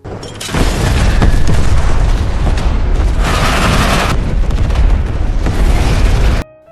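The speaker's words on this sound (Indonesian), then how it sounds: "Setelah anak buah Hugo terkena ledakan tersebut" A loud, sustained booby-trap explosion in a Rambo film scene, deep rumbling and crackling debris filling the scene for several seconds, then cutting off abruptly.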